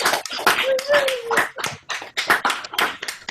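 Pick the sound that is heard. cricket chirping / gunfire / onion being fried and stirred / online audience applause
online audience applause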